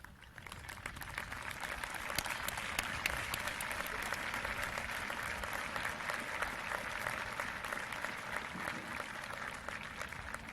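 Sustained applause from a large crowd at a 2022 high school commencement, honoring the standing class of 1972; dense, steady clapping fills the whole stretch at an even level without speech.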